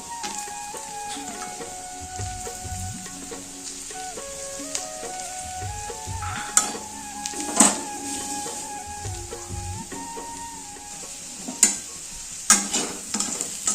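Potatoes fry in a pan for a potato fish curry, giving a steady low sizzle with scraping stirs and a few sharp utensil clinks against the pan; no one talks.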